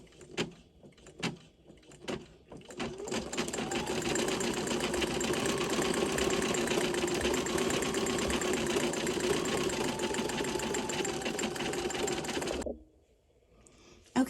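An embroidery machine stitches a snow design on clear vinyl held in a hoop, a few clicks and thuds before a steady, close whirring hum that runs for about ten seconds, then stops abruptly.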